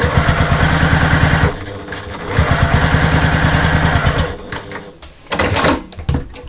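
A sewing machine top-stitches a travel case in two rapid, steady runs of needle clatter. A short pause separates the runs, and fainter handling noises follow.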